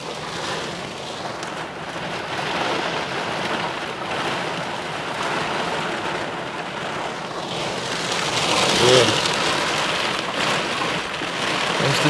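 Heavy rain falls during a severe storm in Dublin, Indiana, in May, making a steady, dense, even hiss that swells slightly near the end, with no talking.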